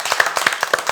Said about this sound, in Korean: 그 스태프들에게도 큰 박수 한번 부탁드리겠습니다